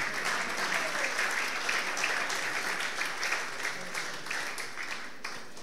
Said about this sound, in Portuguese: Uma salva de palmas para todas as mães.